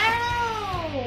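An angry cat lets out a loud, close, drawn-out yowl that bends downward in pitch, a growling caterwaul heard alone.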